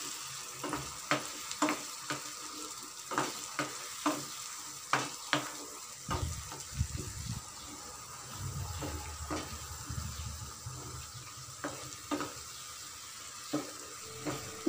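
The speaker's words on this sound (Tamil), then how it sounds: "அரைச்சி எடுத்துக்கிற வெங்காய தக்காளி விழுதை சேர்த்துட்டு நல்லா வதக்கிக்கலாம்" A ground onion and tomato paste sautés in oil in a pan, with a soft continuous sizzle and frequent sharp spoon scrapes and taps as it is stirred, fairly quiet and close, with no voices.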